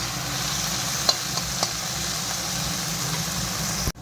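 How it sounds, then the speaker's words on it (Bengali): Tomato and onion frying in a pan for a fish curry, a steady soft sizzle with a few faint stirring clicks, and a sharp knock at the very end. "ভালো করে ভেজে নিই।"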